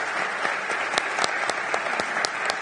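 Audience applause for Paula Arcana at a live event at Punahou School, a steady wash of clapping with distinct individual claps standing out, fairly close and continuous.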